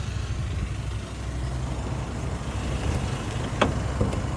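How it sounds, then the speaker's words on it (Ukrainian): A steady, low engine rumble idles evenly and continuously, with a brief faint click or tap near the end. "двигун працює рівно, без пропусків по запаленню"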